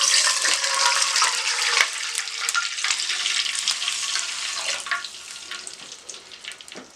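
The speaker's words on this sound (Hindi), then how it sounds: "अब इसमें पानी डाल रही हूँ।" Water poured into hot oil in a cooking pot for rice sets off a loud crackling sizzle with a rushing pour underneath, bursting at first and then gradually fading.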